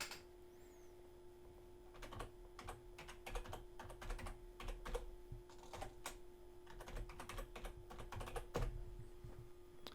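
Rapid, light keystrokes tapping on a computer keyboard while entering a fake email address, irregular bursts of clicks over a steady low hum in a quiet room.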